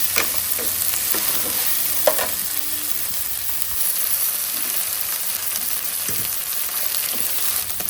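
Fresh green peas fry in oil for upma with a steady close sizzle, broken by a few scrapes and knocks from stirring.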